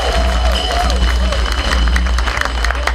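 A crowd at a church harambee fundraiser claps for a politician, a scattered round of applause and crowd noise beneath a loud voice talking over a PA.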